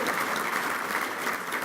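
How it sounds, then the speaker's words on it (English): Brief burst of steady applause from a luncheon crowd at a touchdown club meeting, many hands clapping together in a dense, even wash. "let's give them a round of applause wherever you're at."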